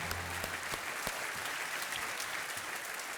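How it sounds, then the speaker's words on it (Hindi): A studio audience on a televised quiz show breaks into loud, sustained applause, a dense even wash of clapping with no voices standing out. "तालियों के साथ इनका अभिनंदन किया जाए"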